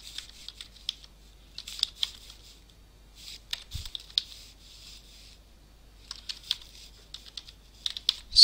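Values are typed on a computer keyboard into a GeoGebra spreadsheet: quiet, uneven clusters of light key clicks with short pauses, close and soft, one slightly heavier thump midway, no talk.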